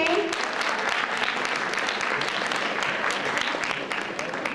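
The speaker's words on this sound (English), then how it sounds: "I think they need another round of applause, don't you think?" An audience at a school event claps for a performance by five- and six-year-old children, a full, continuous round of applause that stays loud throughout with a few voices underneath.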